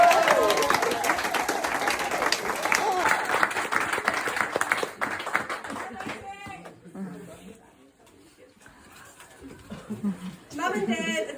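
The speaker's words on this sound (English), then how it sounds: "let's give them a round of applause" Audience applause at a family roast event, loud sustained clapping from a crowd that gradually fades out, leaving scattered chuckles and murmured chatter before a final short burst of clapping returns.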